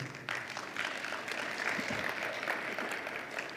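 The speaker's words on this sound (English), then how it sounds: "Please give him a hand of applause." A summit audience gives a hand of applause for a government minister, soft, distant-sounding clapping spread evenly across the room, faint overall and without talk.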